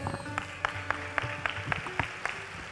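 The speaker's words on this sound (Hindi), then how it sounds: "या तो हॉल बड़ा है या आपकी तालियों में ताकत थोड़ी कम लग रही है मुझे" An audience in a hall at a Hindi poetry recital, a kavi sammelan held by the Lions Club of Howrah, claps in a steady, evenly spaced rhythm. The clapping is modest and somewhat sparse rather than a full roar.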